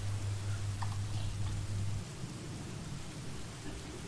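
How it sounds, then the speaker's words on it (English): Steady rain with low thunder rumbling in a vampire visual novel, Vampires' Melody: a dense, constant hiss of rainfall under a deep rolling rumble that drops away about halfway through, leaving the rain alone. "I can only detect the sound of rain and lightning around me."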